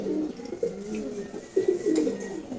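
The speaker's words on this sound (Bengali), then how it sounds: "খুবই সুন্দর একটা নর কবুতর এটা" A male pigeon gives several close, deep rolling coos in short bursts, loud and clear against a quiet background with faint sounds of other birds.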